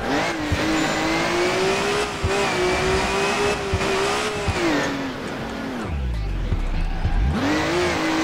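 Race car in the Crash Time 2 racing game, its engine droning at a steady high pitch, then dropping and surging twice with a brief tire squeal, loud and close throughout.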